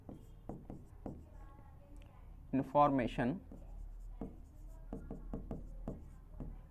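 A pen scratches across paper while a maths solution is written out, soft short strokes in uneven bursts beneath someone speaking Hindi.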